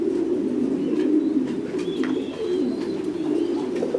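Thai Titan pigeons cooing at a pigeon farm, a steady low murmuring coo from several birds close by, with faint chirps above and no talk.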